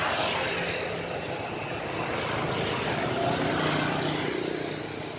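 A motorbike engine runs steadily nearby, giving a continuous low rumble with no talking over it.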